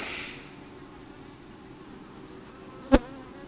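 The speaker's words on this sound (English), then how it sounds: "there's a real nice buzz" Honeybees buzz steadily around an open hive during an inspection, a soft continuous drone with a brief loud buzz or knock near the end.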